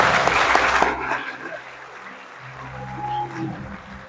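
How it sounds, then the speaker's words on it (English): A short burst of clapping from a crowd at a school awards ceremony for about a second, then dying away into quiet room murmur and faint voices. "So once again, a round of applause for Trevor."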